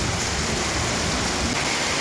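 Heavy rain pours steadily in a continuous, loud hiss close by, with a low rumble underneath and no voices.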